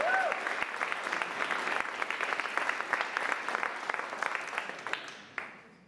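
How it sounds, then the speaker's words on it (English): Steady, dense audience applause at a spring art exhibition opening at an arts center, continuing strongly before fading out near the end. "Let's have a big round of applause."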